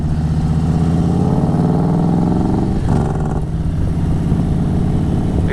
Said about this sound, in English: Exhaust is pretty loud on here